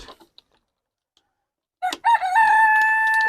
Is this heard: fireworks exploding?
no